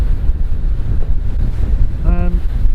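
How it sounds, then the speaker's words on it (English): Sea and wind around a Trader 535 Sunliner motor yacht out on the water in the rain: a loud, constant rushing wash and buffeting gusts close to the microphone, with a brief tonal whine near the end. "There's something, the sound of the sea, the wind, salt in the air"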